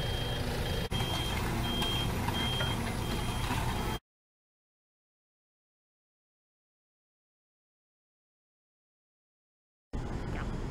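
A KLEMM KR702-2R drilling rig backing up, its reversing alarm beeping steadily over engine noise for about four seconds, then silence before the machine noise briefly returns near the end.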